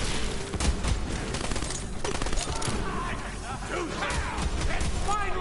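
Rapid gunfire rattles on steadily while shooting at flying enemies in the Borderlands 3 video game, loud and dense with crashes mixed in, and a player's voice talking over the shots.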